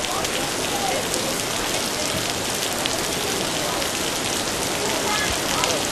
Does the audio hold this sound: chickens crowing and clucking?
no